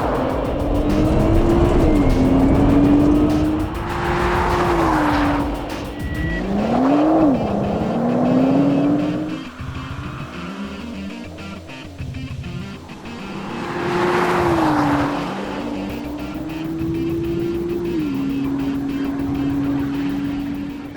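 Race cars, including a Nissan R34 GT-R, accelerating hard through the gears on a circuit, engines rising and falling in pitch as they pass, loud and continuous with a lull midway before another surge.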